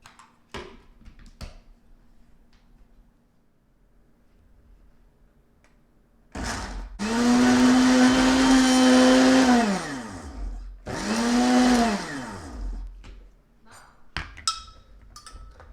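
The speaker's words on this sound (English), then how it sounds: "3 clavos, 3 cloves, and this we're going to blend." A blender whirs loudly through dried chiles, spices and three cloves for birria in two bursts of about four and two seconds. The motor pitch drops as each burst winds down, with clatter and handling sounds around them.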